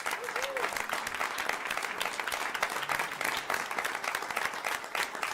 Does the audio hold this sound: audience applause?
yes